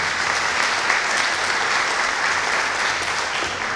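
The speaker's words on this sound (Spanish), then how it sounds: "Un aplauso, por favor." Steady applause from an audience welcoming a guest at a book launch event, dense and continuous clapping throughout with no talking over it.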